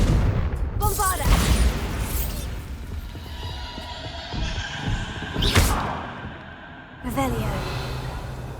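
Bombarda spell explosions go off in Hogwarts Legacy: three heavy booming blasts with rumbling tails, separated by quieter stretches of game ambience.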